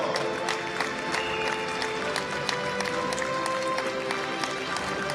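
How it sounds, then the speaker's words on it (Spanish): Crowd applause for the podium teams Spain, France and Mexico at a leather-ball paleta world championship final, steady clapping filling the venue with a few louder claps standing out. "fuertes aplausos para nuestros equipos del podio, España, Francia y México"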